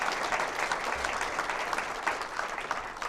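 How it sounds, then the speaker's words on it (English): A town hall audience at St. Anselm in Manchester, New Hampshire claps for Matt, producing dense, continuous applause from a crowd that stays loud and even throughout. "Can we give Matt a round of applause, please?"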